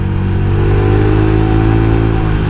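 Motorcycle with a replacement engine and an aftermarket exhaust runs in a loud, steady, close-up drone with a throbbing low tone that holds level throughout, with no distinct rise or fall.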